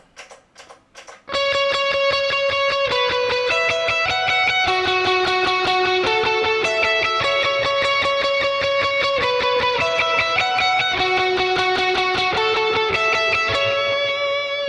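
Electric guitar through a Line 6 POD Go factory preset with transistor-style tape delay and reverb, playing a fast, steady run of bright sustained notes after a few short picked hits, loud and alone.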